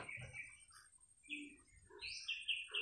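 Scattered crow calls and chirps at a distance, a few short harsh cries among them, quiet outdoor setting with no talking.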